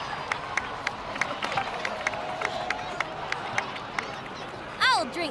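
Crowd applause and cheering in Genshin Impact, a steady patter of claps with scattered sharp hand strikes running under the scene, ending in a brief swell of voices.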